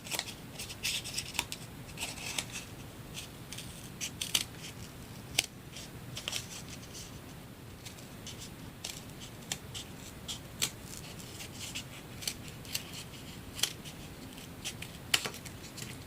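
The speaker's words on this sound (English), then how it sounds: "and then you just use your scissors to cut similar size stones." Scissors snip repeatedly through paper or card, cutting out small homemade stones for a mini weiqi (Go) set, a steady series of close, sharp clicks and crunches at irregular intervals, with no talking.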